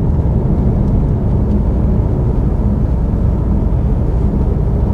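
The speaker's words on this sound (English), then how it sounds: "Got the car in sport. It will react to the throttling just the same way as it would do if I was operating the accelerator" A car in sport mode accelerating under hand controls, heard from the cabin as a dense, constant engine and road rumble that stays loud and even throughout.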